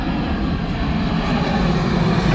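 A fixed-wing airplane passes low overhead along a San Diego flight path, making a steady, loud engine roar that fills the whole stretch with no break.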